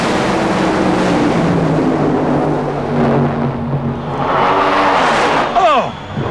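Funny car drag racing at the 1995 NHRA Sears Craftsman Nationals in Topeka, a loud, sustained engine roar with a rising pitch sweep near the end as the cars pass, and an excited announcer talking over it.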